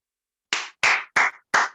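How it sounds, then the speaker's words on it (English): Four sharp, separate claps ring out in quick succession after a short silence, close and distinct, from an online Toastmasters club meeting calling up an evaluator. "With a big round of applause, let's have our evaluator for Toastmaster DTM Wafa Salman"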